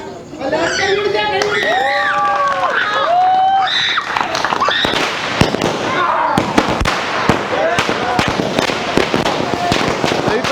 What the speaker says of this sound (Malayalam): നമ്മൾ പടക്കം കൊളുത്താൻ വേണ്ടി പോവാണ്.